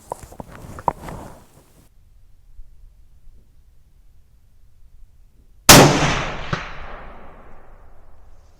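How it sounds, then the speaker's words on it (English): A rifle shot from a Ruger American Predator at a steel gong 200 yards away, a sharp loud crack that rings out and decays over a couple of seconds, after quieter earlier taps and silence. "I just hit a steel gong at 200 yards"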